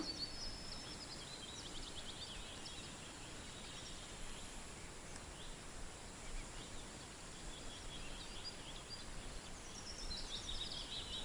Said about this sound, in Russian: Птицы поют как летом.